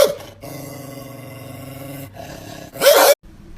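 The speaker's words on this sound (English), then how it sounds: "It's the biggest wiener dog I've ever seen." A dachshund growls in short bursts with a brief loud flare near the end, close and fairly loud, with no talking over it.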